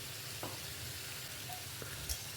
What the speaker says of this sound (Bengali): মশলার পেস্টটা দিয়ে দিলাম দিয়ে কষিয়ে নেব